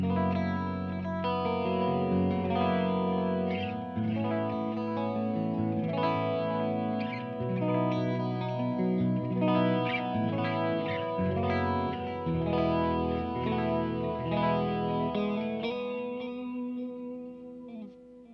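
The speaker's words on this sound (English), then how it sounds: "let's dress it up with the Julia chorus and the flashback delay" A clean electric guitar through a Sloane amp, dressed with a Julia chorus and Flashback delay, plays continuous shimmering chords and lines with a wobbling, echoing wash, steady and full throughout with no talking.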